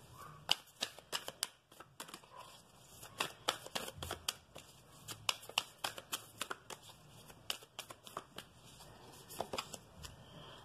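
A deck of oracle cards is shuffled close by with a long run of crisp riffling flicks and slaps in an uneven rhythm, and no other sound.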